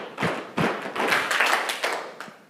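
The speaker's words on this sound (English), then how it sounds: "we're going to clap together" An audience at a live presentation event claps together in a few loud, close bursts of hand claps over a couple of seconds.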